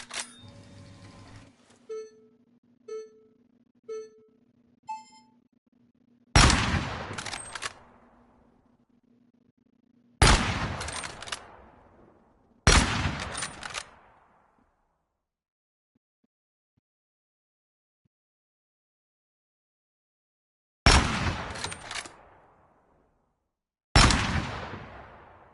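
Gunshots ring out during test-firing in the Gunsmith Simulator video game: five loud sharp reports with long decaying tails spaced a few seconds apart, preceded by soft clicks and beeps, with no talking.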